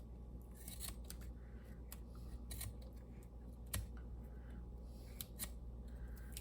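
Scissors snip repeatedly through paper while trimming pages for a handmade journal, sharp crisp cuts spaced irregularly over a faint room background, close and without talk.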